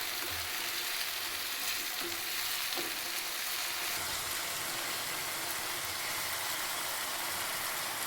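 Garlic and tomatoes cook in a pan for pav bhaji, giving a steady, even sizzle and hiss that runs unbroken throughout, fairly quiet, with a low background hum beneath.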